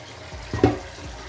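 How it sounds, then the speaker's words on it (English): Cold tap water runs briefly over freshly cooked pasta in a kitchen sink, a short close splashing rush that swells and fades within about a second, with no talking. "please don't forget to pour cold water above it to stop the cooking process"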